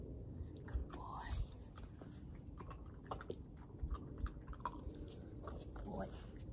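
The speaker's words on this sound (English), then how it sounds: "They're crunchy, these treats. They're crunchy treats." A dog crunching on crunchy treats, with several sharp, close bites and chewing clicks spread across the clip under soft, quiet human talk.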